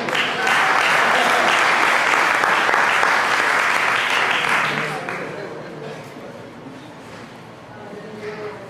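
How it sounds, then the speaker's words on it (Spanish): A church congregation applauds in a loud burst of clapping that holds for about five seconds, then trails off into quieter scattered claps and room noise. "Den un aplauso al Señor."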